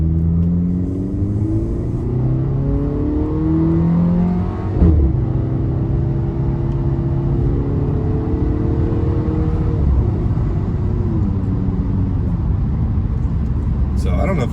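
A car fitted with an AWE Tuning Touring Edition exhaust accelerates on a highway, heard from inside the cabin as a steady engine drone and road rumble rising through the gears, with someone talking over it throughout.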